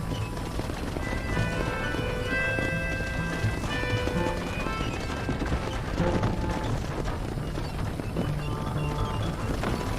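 A horse in Red Dead Redemption gallops with steady clip-clop hoofbeats under a continuous game soundtrack, with a short whinny in the mix.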